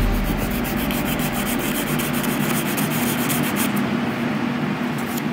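Sandpaper rubs back and forth over a resin kit in a close, continuous scratchy hiss with rapid even strokes.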